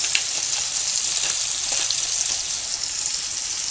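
Steak sizzles steadily in a hot pan for a steak sandwich, a dense, continuous frying hiss with small pops throughout and no talking.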